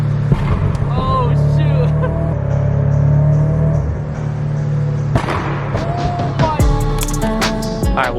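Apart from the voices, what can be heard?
Scion FR-S car making exhaust pops in a tunnel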